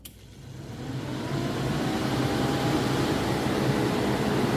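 A cooling fan on a Chinese mini skid steer spins up, its whooshing rush swelling over the first seconds and then holding a loud, steady roar.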